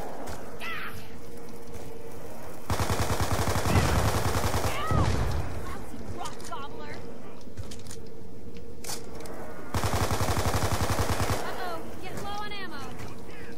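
Bursts of gunfire aimed at zombies in Black Ops 2 Zombies, on the TranZit map, come in two sustained rapid volleys separated by quieter game sounds, with a voice talking between them.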